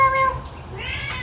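A cat meows once or twice, moderately close, over a steady background hum with a faint high tone, no speech.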